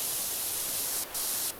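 Pressure washer in PowerWash Simulator spraying a steady, loud hiss of water while cleaning the town fire station, cutting out briefly twice as the trigger is released and pressed again.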